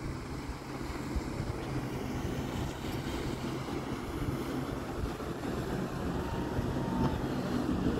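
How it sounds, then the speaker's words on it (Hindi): Wind and water wash steadily over a lake shore boat launch at Port Maitland, a constant broadband outdoor roar with no voices or distinct events. "ये लेक एरिया है, पोर्ट मेटलैंड। ये बोट लॉन्च है यहाँ पे।"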